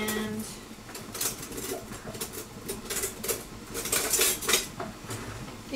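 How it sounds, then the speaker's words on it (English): A kitchen knife chops whole jalapeno and serrano peppers, seeds left in, against a cutting board, producing quick irregular taps and clatter, near and moderately loud, with no voices. "I guess I could chop up my peppers"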